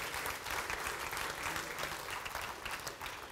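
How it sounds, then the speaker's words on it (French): Congregation applause during a church service, a dense, even wash of many hands clapping continuously with no speech over it. "Encore une bonne main d'applaudissement pour un Dieu qui nous aime comme ça"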